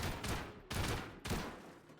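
Gunfire in a video game rings out in three heavy, booming bursts aimed at a wall, each a loud blast with a decaying tail, close and alone with no talk.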